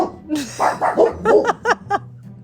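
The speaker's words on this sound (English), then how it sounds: "Those are my dogs." Several short, sharp dog barks come in quick succession close to the microphone, mixed with voices, at a man-on-the-street podcast recording.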